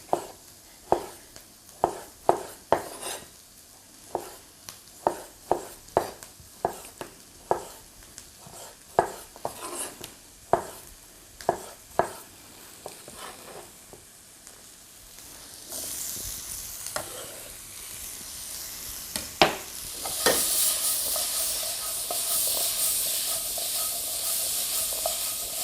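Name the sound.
spices frying and being stirred in a pan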